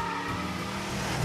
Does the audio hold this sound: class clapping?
no